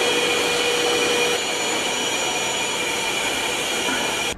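A vacuum cleaner runs outdoors in the mountains with a loud, steady whooshing hum and a faint high whine, holding level nearby until it cuts off abruptly at the end.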